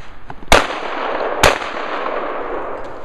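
Shotgun fired at a clay target: two sharp, loud blasts about a second apart, each with a brief ringing tail over faint outdoor background.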